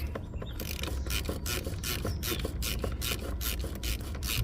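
Ratchet with a 24mm socket working loose a spring-loaded strainer on a car, a steady run of quick clicking pawl strokes in close, continuous rhythm with no talk.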